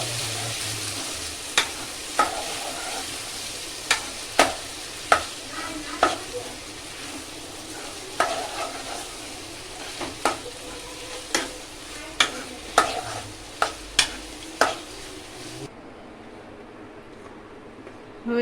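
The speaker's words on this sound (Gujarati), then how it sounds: "ટમેટા આપણા ચડી ગયા છે તો હવે આપણે એને બાફેલા બટેકાને એડ કરી દઈએ. થોડી વાર હલાવી લેશું." Boiled potatoes are stirred into cooked tomatoes in a frying pan, giving a steady soft sizzle broken by repeated sharp scrapes and taps of the spoon against the pan, with no talking.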